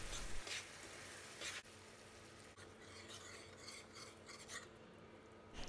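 A spoon stirs thick syrup in a pot with soft, continuous scraping and rubbing, quiet and close, with no voices.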